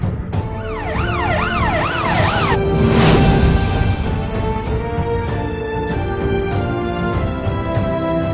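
An ambulance siren wails in quick rising and falling sweeps for a couple of seconds in a tense Bhojpuri film scene, then drops back into a dense wash of background noise and music.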